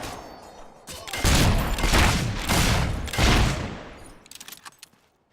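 Weapon gunfire in the video game Fable III during the final battle: loud sustained bursts of shots and booms lasting several seconds, then trailing off into scattered sharper cracks.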